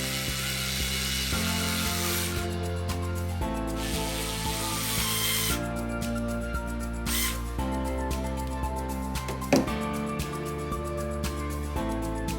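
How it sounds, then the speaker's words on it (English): A small tool turns screws on the rear bumper of a Tekno 410SL RC car, with close, fine clicking and rubbing over a steady hum and a few brief hissing stretches. "Tighten down good on the screws, and should be no problem."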